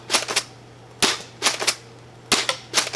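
A Stryker 2.0 foam dart blaster fitted with upgrade parts fires at bottles in sharp, close snaps, coming in quick pairs and triples separated by short pauses, with no talking.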